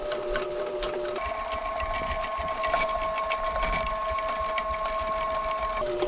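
A drain cleaning machine runs steadily in a clogged main line from a washing machine drain, its motor whirring with a constant, close, loud mechanical drone throughout.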